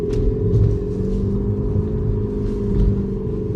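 A steady low engine-like hum drones continuously, a synthetic exhaust rumble with a smooth tonal quality, fairly loud and alone throughout: an Active Sound Exhaust system's artificial exhaust sound on a Tesla electric car.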